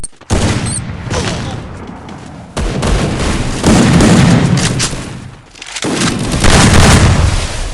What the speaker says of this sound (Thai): โอ้โหโดนระเบิดดักหลัง